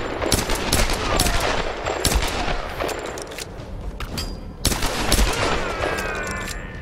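Rapid bursts of gunfire in the Tomb Raider video game, sharp cracks firing in quick clusters over a dense, busy game soundscape, loud and close throughout.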